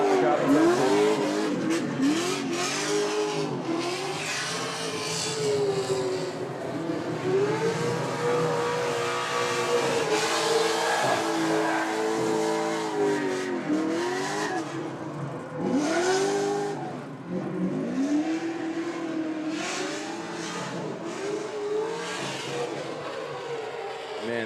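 A BMW drift car on a Formula DRIFT ProAm competition run screams through rising and falling revs with sharp throttle blips and sustained tire squeal, loud and continuous over about twenty-five seconds.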